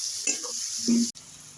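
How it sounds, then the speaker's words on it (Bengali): Onions sizzle steadily in a pan while a utensil stirs them briefly, then a short sharp knock and the frying continues quietly. "এটা দিয়ে পেঁয়াজটা একটু ভাজা ভাজা হবে।"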